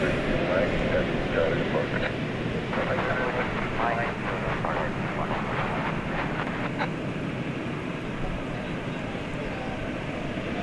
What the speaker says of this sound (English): Here we go, the 777 off to Doha.